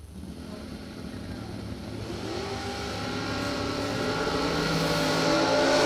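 A doorcar dragster runs down a drag strip at a bracket race, a loud sustained engine roar that climbs steadily in pitch and volume as the car accelerates away.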